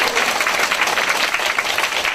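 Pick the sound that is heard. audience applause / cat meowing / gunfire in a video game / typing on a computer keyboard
audience applause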